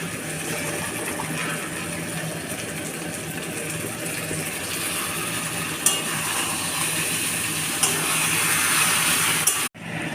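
Mutton pieces go into hot spiced oil that has started to separate from the masala, raising a dense, continuous close sizzle with a few sharp clinks from utensils.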